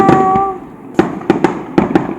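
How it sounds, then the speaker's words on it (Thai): Fireworks burst at a celebration at a home in Thailand, a series of sharp loud bangs in an uneven rhythm, one after another, with a faint tonal hum at the start. "ดูพลุที่บ้านค่ะ"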